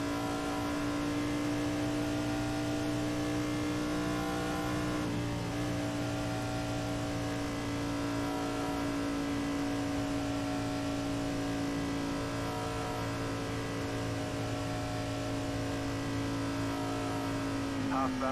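A NASCAR race car engine in the iRacing video game at Pocono drones loudly and continuously at a steady pitch, a low rumbling tone that barely changes, with no clear speech.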